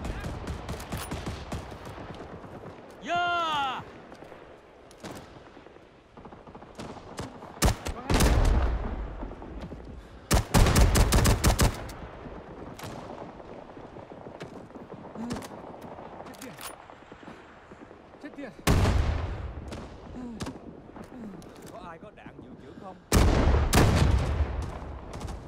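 Rifle shots from a MAS-49 in the Rising Storm 2 war game on the Apache Snow map, sounding as a handful of sharp, loud single cracks spaced seconds apart amid distant battlefield rumble and occasional talk.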